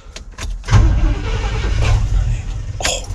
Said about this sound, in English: I don't think it'll fire, but let's see if it at least turns over